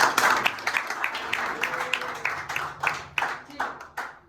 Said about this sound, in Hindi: सबसे पहले भाई सब कैप्टन के लिए तालियां बजाएं।